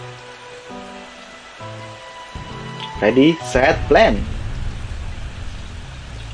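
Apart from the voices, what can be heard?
rain falling in Plants vs Zombies video game mini-game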